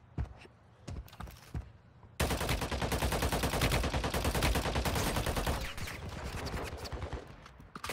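Rapid automatic gunfire in the Warzone Mobile game, starting with a few scattered shots and then breaking into a long, loud, dense burst of rattling fire that slowly fades into lighter shots toward the end.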